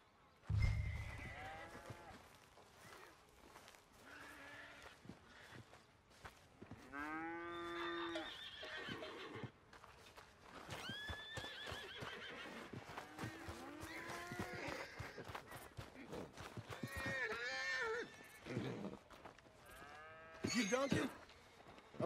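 Horse neighing in Red Dead Redemption 2, set among cattle lowing and other farm animal calls, with several drawn-out whinnies and moos across the clip under intermittent talk and ambient game noise.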